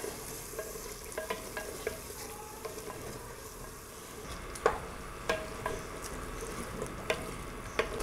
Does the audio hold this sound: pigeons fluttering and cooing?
no